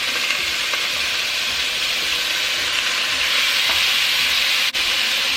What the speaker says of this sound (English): Now that I have my meat in the pot